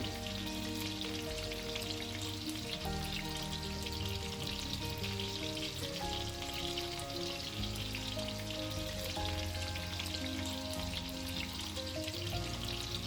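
Chopped tomatoes fry in a pan for aloo dum, giving a soft, steady sizzle under a constant tonal hum throughout.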